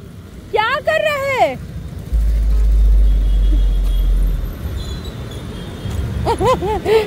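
Road traffic passing by on a busy street, a steady rumble of cars and motor vehicles filling the background while a voice and other people talk loudly over it.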